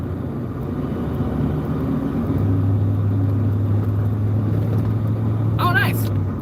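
A 1981 Ford Mustang coasting down the road off the gas, its low engine and road rumble steady inside the cabin while people talk over it.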